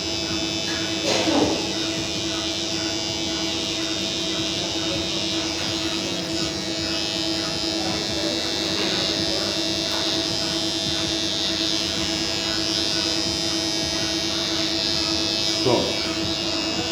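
An electric razor buzzes continuously while lining up the corners of a haircut, a steady close hum with occasional brief shifts as the blade moves.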